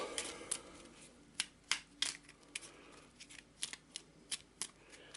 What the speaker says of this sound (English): So I'll give it a quick shuffle.